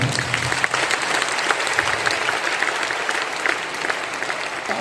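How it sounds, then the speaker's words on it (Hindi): Audience applause at a DXN motivational training event in Patna, steady loud clapping from a large crowd sustained throughout with no speech over it. "जबरदस्त ताली होनी चाहिए।"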